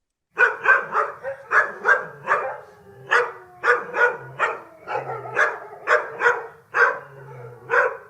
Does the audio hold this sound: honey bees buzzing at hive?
no